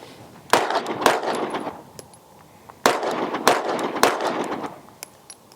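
Gunshots from a Glock pistol fitted with a QVO Tactical thumb cliff: five sharp, loud reports in two quick strings, two shots then three, each ringing out briefly in open air.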